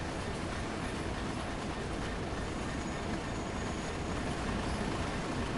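Class 37 diesel locomotive in Train Sim World, its engine thrashing as a steady, fairly quiet rumble with rail noise, continuous throughout with no voices.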